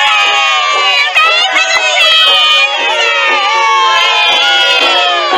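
A large group of guards cheers loudly and continuously in the animated film Thumbelina, celebrating Thumbelina and the Prince's wedding, with high girlish voices mixed into the male crowd's shouts throughout.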